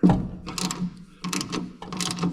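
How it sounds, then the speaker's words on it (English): A socket wrench works a tube nut loose on a cut brake hard line of a Datsun 510, producing rapid ratcheting clicks in short repeated bursts, close and fairly loud. "And now with the socket, my hope is that I can get it out of there"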